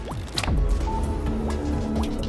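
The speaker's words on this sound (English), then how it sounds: "I jumped into the water." Water splash from a character jumping into water in the Bopl Battle video game, a loud liquid burst with bubbly dripping and short watery blips continuing over a busy game background.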